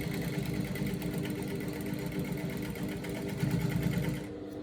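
A sewing machine top stitches along a seam of straight-leg pants, running as a steady, close, continuous whir with a fast, even stitching rhythm that quiets just before the end.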